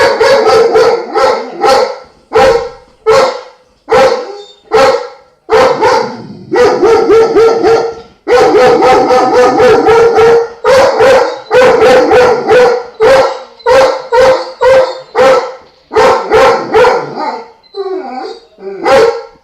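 A dog barks over and over in a steady string of loud, close barks, with brief yips and a howl-like whine toward the end.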